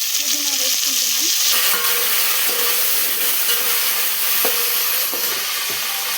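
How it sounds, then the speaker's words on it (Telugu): Fresh mint leaves dropped into hot oil in a pan for a chicken rice dish, giving a steady close sizzle and hiss with a few stirring clinks, no talking. "పుదీనా వేసుకుంటున్నాం."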